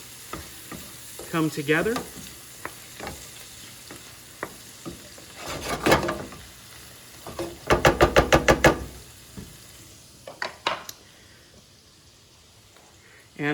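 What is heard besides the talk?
stirring Amatriciana pasta sauce in a pan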